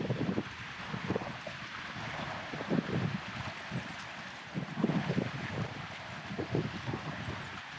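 Wind blowing at a trout lake during ultra-light trout fishing, a steady rushing buffet with gusts on the microphone and rumbling low-end surges throughout; no speech.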